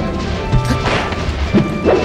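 A forward smash landing in Super Smash Bros. Melee, heard as a sharp crashing hit amid busy game audio, with a couple of further thuds late in the brief stretch.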